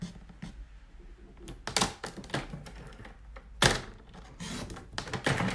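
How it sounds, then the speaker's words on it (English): A paper trimmer slices cardstock for a Stampin' Up box project, giving a run of close dry thunks and sliding scrapes, with sharper clacks near the middle and toward the end. "I'm going to cut it while it's here because it's easier than scissors and it's definitely straighter."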